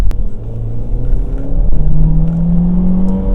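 Citroen C4 Cactus with a 1.6 THP turbo engine of 173 horsepower accelerating hard, a loud close rumble rising steadily in pitch as the engine revs up through the gear.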